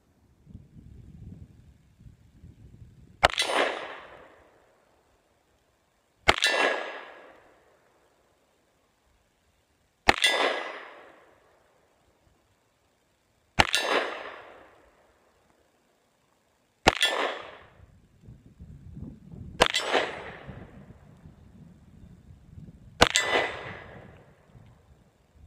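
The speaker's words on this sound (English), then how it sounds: "me down at the range shooting those beautiful AR 500 steel hard targets from Hard Target" A Ruger SP101 revolver in .357 Magnum fires seven single shots, each followed by a sharp ringing clang from AR500 steel targets, spaced a few seconds apart at an outdoor range with light wind noise between.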